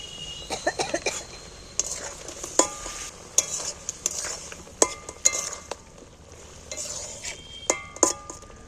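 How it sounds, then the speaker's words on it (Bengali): Jackfruit pieces being stirred into a bubbling, spicy gravy in a pan: repeated sharp clinks and scrapes of a utensil against metal over a faint sizzle, close by, with a brief cough. "ঝালটা আমার ফুটছে, এইগুলো ঝালের মধ্যে তুলে দিচ্ছি।"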